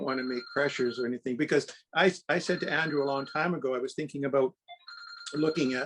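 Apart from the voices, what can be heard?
mobile phone ringing during a lecture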